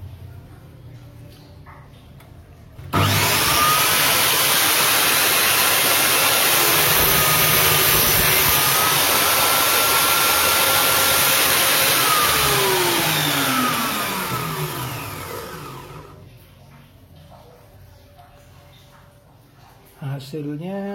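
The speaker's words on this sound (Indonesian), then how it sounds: "Sekarang kita akan coba memotong kayu menggunakan meter saw ini." Modern M-3700B miter saw cutting wood at a 0-degree setting, a loud motor roar that starts abruptly, holds steady with a whining blade cut for about twelve seconds, then winds down, with talk before and after.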